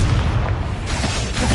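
A Confringo spell explosion in Hogwarts Legacy gives a loud, dense burst of rumbling noise, with another impact near the end, and no talk over it.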